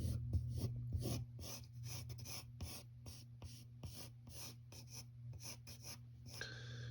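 Pencil scratching on paper while drawing a cartoon mouse figure, a series of short quiet strokes and scribbles in an uneven rhythm, close up and alone without speech.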